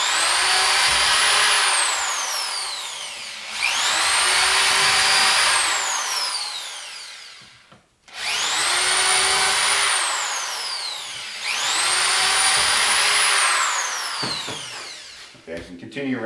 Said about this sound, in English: drill these all the way around.